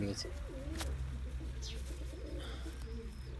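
A domestic pigeon from a breeding pair coos in low, rolling notes close by, with faint talk and other bird sounds in the background.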